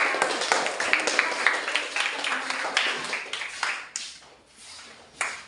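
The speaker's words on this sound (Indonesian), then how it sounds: "Beri tepuk tangan untuk kelompok" A classroom of students claps for a presenting group in a maths lesson, a quick scattered patter of hands that slows and tapers off, leaving a few last claps.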